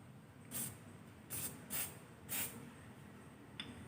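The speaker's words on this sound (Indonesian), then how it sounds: "kita semprot dengan menggunakan brake fluid ini. Kita semprot dulu." Brake fluid sprayed from a can onto sanded brake parts during brake system servicing: four short, sharp hissing bursts close by, then a faint brief puff, with no talking.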